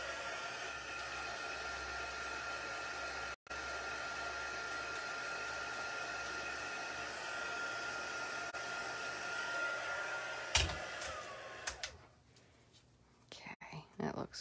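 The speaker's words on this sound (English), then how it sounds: "I'm going to hit this with my heat tool really quickly just to get it to dry" A handheld heat tool blows hot air to dry alcohol ink on an acetate craft sheet. It gives a steady, airy roar for about ten seconds, then cuts off, followed by a few light handling clicks.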